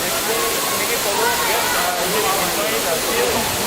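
A waterfall roars as a steady, dense hiss filling the whole clip, close and loud, with faint murmuring voices of a crowd and children mixed underneath.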